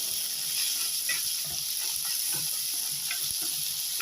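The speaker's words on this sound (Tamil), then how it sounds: "எல்லாம் போட்டு நல்லா எண்ணெயிலேயே வதங்கினேங்க." Steady close-up sizzling of onions and curry leaves frying in oil in a clay pot, a constant crackling hiss with occasional light stirring scrapes, no voices.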